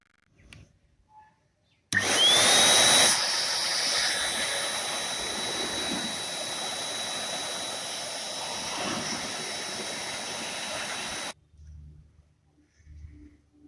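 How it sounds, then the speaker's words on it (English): Air blower cleaning loose dust out of a vintage Philips EV6502 public address tube amplifier, a loud hissing rush with a whine that runs steadily for about nine seconds, then stops abruptly. "So before we take a look at the tubes, we will just blow this with a air blower"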